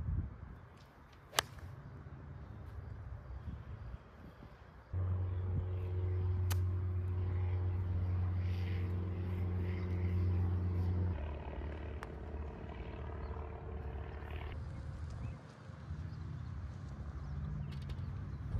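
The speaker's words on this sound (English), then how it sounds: "So you're going to be hearing some planes." A steady low engine drone of airplanes flying near Riverside Airport hums over an outdoor par 3 golf course, swelling for several seconds and then fading, with a few sharp clicks and no talk.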